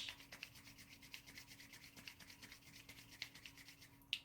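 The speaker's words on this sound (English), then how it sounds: "rubbing the palms of the hands," Palms rubbed briskly together during an outdoor park yoga session, a soft, steady swishing friction in quick repeated strokes, fairly close and quiet, with no talking over it.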